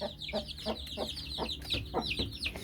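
A Hint Tavuğu hen clucking in a steady rhythmic series of low clucks, close and clear, while her chicks keep up a continuous high peeping above.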